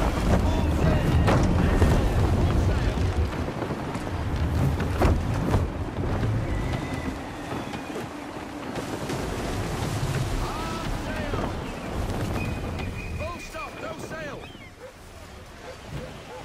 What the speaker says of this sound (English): Gusty winds can be difficult to manage.